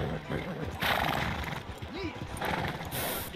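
Horse in the Red Dead Redemption 2 video game, with a short whinny and a soft clopping of hooves mixed under game dialogue and voices.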